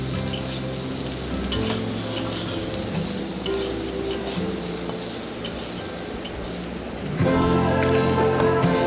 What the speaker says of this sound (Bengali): সয়াবিনগুলো ভালো করে ভেজে নিচ্ছি